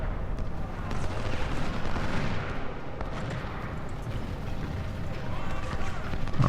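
Artillery fire in the Ultimate General Civil War battle game, a dense, continuous rumble of booms and distant cannon shots throughout, with a voice talking over it.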